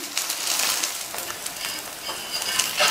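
Sago (javvarisi) dosa cooking uncovered on a hot pan, giving a steady soft sizzle and light crackle throughout, fairly quiet with no voices.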